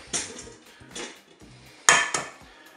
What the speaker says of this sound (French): Maintenant je vais casser les œufs.